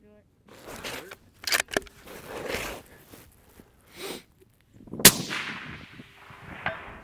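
A rifle fired at a distant target cracks once sharply and loudly, with a brief rumbling tail and a faint impact sound, amid scattered outdoor knocks and murmuring voices.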